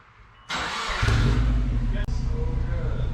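A Subaru car engine, recently rust-repaired and repainted, cranks and catches at once, then settles into a loud, steady near idle with a brief dip partway; people talk nearby.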